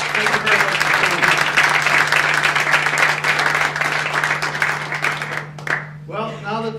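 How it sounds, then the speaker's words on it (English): Luncheon audience giving a round of applause in a banquet hall, dense clapping that gradually thins and stops, followed by a brief voice speaking, with a steady low hum underneath. "I'd like to have a nice round of applause for all the people in the Forum Club."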